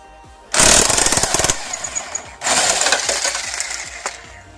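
A pneumatic impact wrench zaps a 14 mm bolt off a Nissan 240SX engine during removal: two loud rattling bursts, the first about two seconds long, the second a bit longer, with a quiet pause between.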